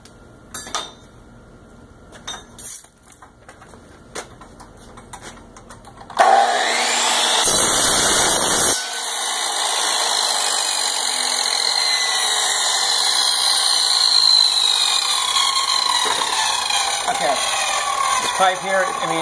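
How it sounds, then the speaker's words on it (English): A chop saw cuts through copper pipe for a moonshine still's downcomer, starting with a loud sustained bright whine and cutting screech after some quieter handling noises, then a long steady grinding hum that continues to the end. "But I'm going to go ahead and use this chop saw"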